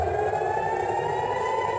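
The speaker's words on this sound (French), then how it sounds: "À Tel Aviv, en début de soirée hier, les sirènes retentissent." Air-raid sirens sound over Tel Aviv in the early evening during rocket fire: a steady, sustained wail that holds at an even pitch and loudness throughout.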